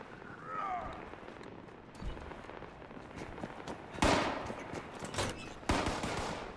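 Gunshots in a shooter video game while clearing enemies from an ammunition factory: a few sharp, loud reports spaced seconds apart over a steady ambient bed, with a voice talking briefly.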